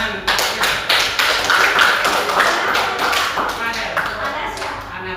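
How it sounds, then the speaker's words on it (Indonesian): A classroom audience claps for about five seconds, a dense patter of many hands with a busy, bright texture, while voices chatter underneath. "tepuk tangan."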